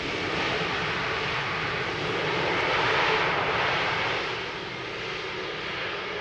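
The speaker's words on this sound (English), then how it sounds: "EasyJet A320neo having arrived from London Stansted." An EasyJet A320neo airliner that has arrived at Schiphol Airport gives a continuous, broad engine roar from a moderate distance. The roar swells slightly midway and then eases, with no voices.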